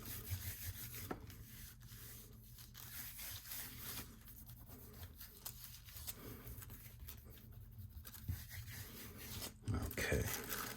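Tissue paper being gently rubbed onto a Gelli print with a handmade baren, a quiet, close, continuous scratchy rubbing with small scrapes and taps along the way.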